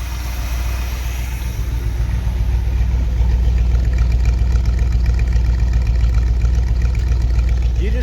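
Carbureted 327 engine in a 1964 Chevy Corvette idling after a cold start, with a deep, steady, slightly loping rumble that runs close and loud for the whole stretch, with a voice over it.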